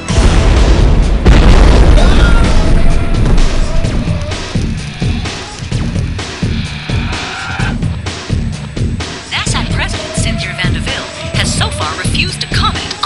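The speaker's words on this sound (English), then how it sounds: "Now this explosion." A loud, deep explosion booms on an island, its heavy low rumble rolling out and fading over several seconds.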